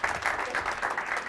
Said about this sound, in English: round of applause for Chief O'Connor.